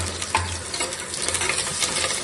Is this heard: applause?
no